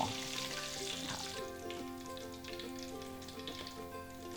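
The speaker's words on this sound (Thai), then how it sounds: "พริกเนี่ยจะสุกไวนะครับ เพราะน้ำมันมีความร้อนอยู่แล้วนะ" Chilies fry in hot oil for a Thai chicken with roasted chili dish, a faint, even, steady sizzle running throughout under a low humming tone.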